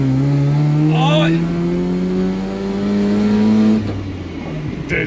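A loud rotary engine in a Mazda RX7 SA22C revs smoothly in second gear, its pitch rising steadily for a few seconds before cutting back, with a brief voice at the start.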